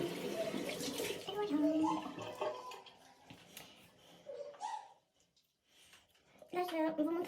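Tap water runs into a sink while someone rinses their face with very cold water, splashing in bursts that fade briefly before resuming, with someone talking over much of it.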